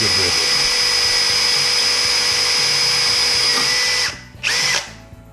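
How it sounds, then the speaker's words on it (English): A power drill fitted with a bigger bit bores out a broken screw, whining loudly and steadily for about four seconds before stopping, briefly revving again, then falling quiet. "There it goes now with the bigger drill bit."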